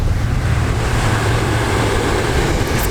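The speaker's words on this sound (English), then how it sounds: "It's kind of loud when it's like the waves, but it's still kind of soothing." Ocean waves roll and wash loudly and continuously on a Spanish shore, mixed with wind noise on the microphone.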